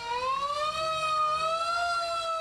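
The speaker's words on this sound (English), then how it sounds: "hear the siren for a little bit, I guess" A fire truck siren wails loudly and steadily during a community parade in Carmel, its tone sliding slowly upward as the truck passes close by, with no talking over it.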